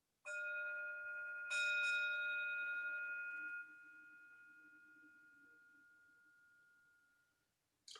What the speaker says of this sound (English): the bell will take us in.